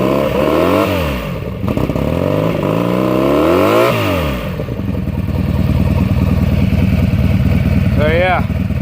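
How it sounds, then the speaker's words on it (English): Honda Magna motorcycle fitted with Emgo mufflers, revved several times in loud rising and falling sweeps, then settling to a rough, uneven idle with a couple of quick blips at the end. "I'll give you a few revs."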